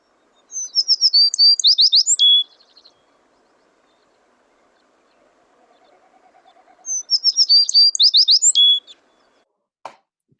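American tree sparrow song: two bright, high twittering phrases about five seconds apart, clear and fairly close with no talk, followed by a faint click at the end.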